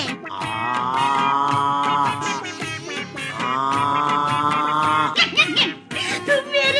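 A voice imitates a buffalo in a Hindi comedy sketch with two long, loud, droning moos up close, followed by brief laughter.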